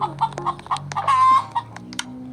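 A video game chicken in Roblox clucks in short, rapid bursts, with one longer drawn-out squawk in the middle; no talking, close and fairly loud.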